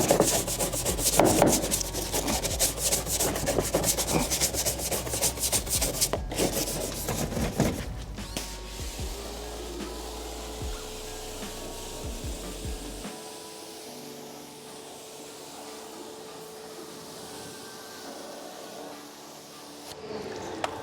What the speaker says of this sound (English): I'm gonna turn to the tire brush and scrub in here